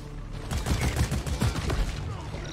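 Rapid automatic gunfire in the co-op game Deep Rock Galactic, a dense continuous rattle of shots close and loud throughout, with muffled game noise underneath.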